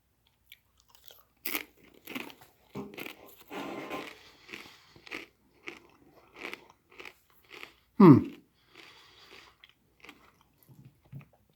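Chewing on Hungarian H/5 ration meat pate with a soft, potted-meat consistency, heard as close, intermittent wet bites and crunchy mouth sounds with one sharper louder bite near the middle, and no talking.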